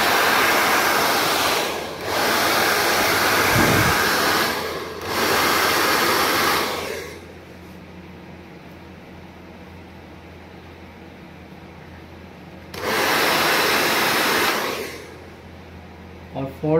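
Hair dryer blowing on hair curled around a round brush, loud bursts of rushing air that switch on and off, with a long quieter gap between blasts.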